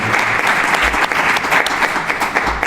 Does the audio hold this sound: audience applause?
yes